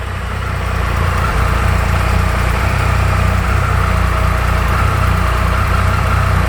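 A 2021 Triumph Tiger 1200 Desert Edition SE motorcycle fitted with an Arrow exhaust idles just after startup, a loud, steady low rumble with a throbbing engine note that holds constant throughout, close to the bike and without speech.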